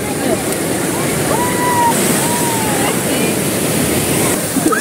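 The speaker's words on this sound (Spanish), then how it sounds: "A pesar de que las olas están fuertes" Strong ocean waves crash and wash in steadily at a shallow beach south of Lima. The surf is loud and continuous, mixed with wind noise, and a few faint, distant voices are audible.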